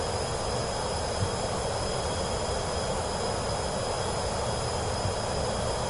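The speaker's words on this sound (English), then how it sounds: "We're both in the air in our" A PC-24 business jet cruises in Flight Simulator 2024, a steady, even engine and airflow roar that holds constant and fairly loud throughout, with no talk.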